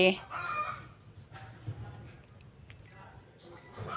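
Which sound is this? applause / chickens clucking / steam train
chickens clucking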